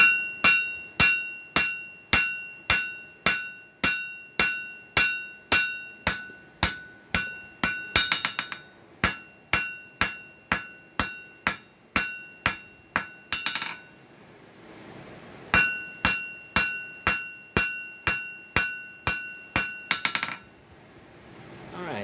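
Metal being planished with a hammer while forging a decorative hoof pick: steady, evenly spaced ringing blows on the anvil come in three long runs separated by brief pauses, close and bright.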